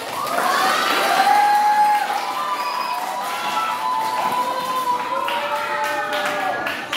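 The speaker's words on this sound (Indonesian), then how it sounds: "Kurang meriah tepuk tangannya, coba yang semangat." Children at a talk on sex education for pre-teens clap and cheer energetically, their high, drawn-out shouts and whoops rising over continuous clapping from start to finish.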